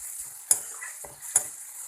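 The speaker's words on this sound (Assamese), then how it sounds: "এয়া মই বিলাহীখিনি ভাজি আছোঁ গলি যোৱালৈকে।" Tomatoes fry in a covered pan for a mushroom dish, a soft steady sizzle broken by two sharp metallic scrapes and a duller clink as a utensil stirs.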